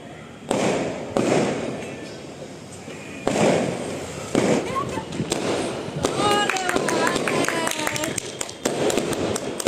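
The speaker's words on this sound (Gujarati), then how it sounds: "ઇન્ડિયા જીતી ગયું એની ખુશીમાં રાજકોટમાં ફટાકડા ફોડી રહ્યા છે" Firecrackers and fireworks bursting in Rajkot to celebrate an Indian win: loud repeated bangs and crackling pops in irregular bursts, heard amid crowd noise and voices.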